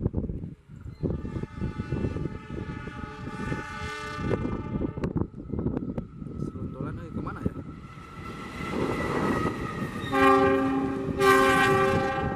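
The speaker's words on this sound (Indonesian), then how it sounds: "kereta lagi nih." A train rumbles past with clattering wheels, and a loud, sustained multi-tone horn blares near the end over the heavy rolling noise.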